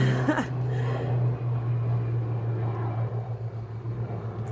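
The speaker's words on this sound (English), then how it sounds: "Let the plane pass." A steady low drone of an airplane passing overhead hums for several seconds, fairly loud at first and slowly fading, with no one speaking.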